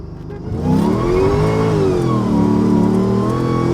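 A boosted Mercedes E55 engine revs hard and climbs steadily in pitch under full throttle, loud and close, with a brief dip as it shifts.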